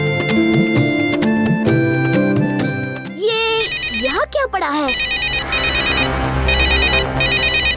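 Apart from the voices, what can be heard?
mobile phone ringtone ringing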